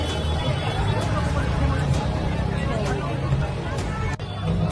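Dense crowd babble fills a busy shopping festival in Ahilyanagar, a steady close murmur of many overlapping voices with no single voice standing out.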